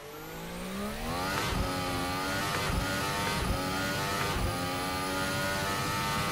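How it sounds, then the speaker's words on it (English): A V6 race car engine in a video game revs steadily, its pitch climbing through several gear shifts, loud and continuous with no voices. "Car sounds good for the V6 era."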